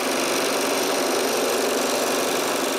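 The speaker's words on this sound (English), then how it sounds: "I use the exterior shape to guide the scroll saw and cut the shields" A scroll saw cuts out wooden shields for handmade nutcrackers, a dense, steady buzzing drone that holds at an even level throughout without pause.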